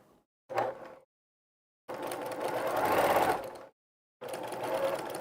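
Domestic sewing machine stitching a quarter-inch quilt seam with partial seams: three separate bursts of fast, even motor whirring, one short and two longer, split by silent pauses and heard close up with no voices.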